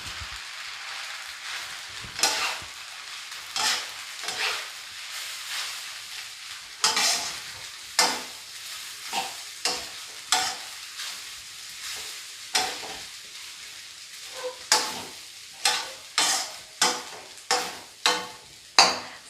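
Rice vermicelli noodles stir-fried in a pan, with repeated scraping tosses of the spatula over a soft sizzle, coming faster and more rhythmically toward the end.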